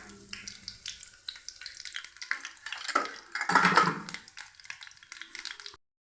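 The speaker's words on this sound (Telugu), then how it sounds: "నూనె వేడైన తర్వాత ఇదిగోండి కొంచెం పచ్చిశనగపప్పు, కొంచెం ఆవాలు, కొంచెం జీలకర్ర" Chana dal, mustard seeds and cumin sizzle in hot oil, a close crackling and popping fry that swells in the middle, then stops abruptly.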